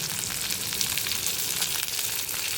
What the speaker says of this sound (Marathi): कांदा भाजून घेते आणि नंतर हे बटाटे मॅच करून ह्याच्यामध्ये टाकते.